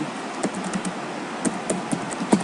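Computer keyboard keys tapped while entering a spanning-tree port-fast command on a network switch, a light, irregular run of close clicks with brief pauses between keystrokes and no speech.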